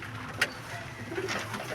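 Domestic pigeons coo softly in a loft where they are fed corn, a low, faint, murmuring call under a steady background hiss, with one brief sharper noise early on.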